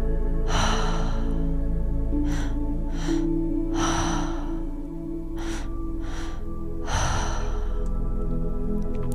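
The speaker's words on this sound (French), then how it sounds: "Des respirations agréables, lentes et profondes." Slow, deep breaths during a guided breathwork exercise: long audible inhales and exhales repeat in a steady unhurried rhythm, close and intimate over a soft sustained musical drone.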